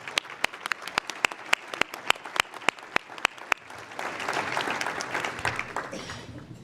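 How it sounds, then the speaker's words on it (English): A group applauds: sharp, distinct claps ring out first, then swell into steady, dense applause from a crowd. "Please give a round of applause for our students."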